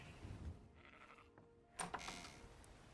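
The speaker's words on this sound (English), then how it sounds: "Here is to our slaughterhouse. We have sheep in here." Sheep penned in a video game slaughterhouse bleat in a couple of short, wavering cries, the clearest one loud and near, over faint low background noise.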